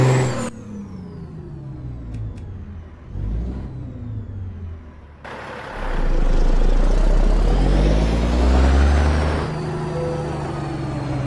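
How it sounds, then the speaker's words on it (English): A big Caterpillar-engined Mack truck in American Truck Simulator idles and revs, a turbo whine rising over a deep rumble, with a hiss of air near the end. "You can hear that turbo"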